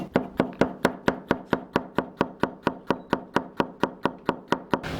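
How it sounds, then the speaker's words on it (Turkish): Garlic cloves being finely chopped with a knife on a cutting board, a fast, even run of about twenty sharp close knocks, loud and alone with no talk. "Sarımsakları da ince ince doğrayacağız"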